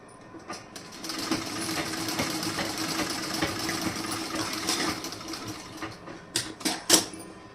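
A sewing machine stitches fabric for kaj patti and button patti work, running in a fast, steady whir close by, then stopping with a few sharp clicks and clunks near the end, with no talking.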